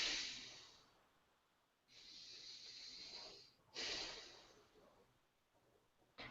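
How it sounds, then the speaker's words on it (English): Deep, slow breaths drawn in and released through the nose and mouth, three airy hissing inhales spaced a couple of seconds apart, close and soft. "If I breathe in,"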